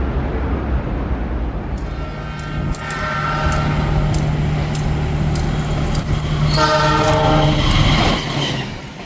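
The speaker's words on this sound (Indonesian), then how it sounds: "bisa dengerin semboyan 35 sama throttle dari lokomotif RNB" A train horn sounds in sustained blasts over the heavy rumble of a diesel locomotive at an LRT depot in Bekasi, with the engine noise swelling as it throttles up.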